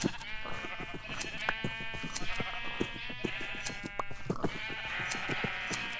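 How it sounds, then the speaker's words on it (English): Repeated sheep bleats in Minecraft over a background of rhythmic clicking and snipping from shearing, with layered synthetic tones of game sound effects. "there's a new sound for shearing the sheep too"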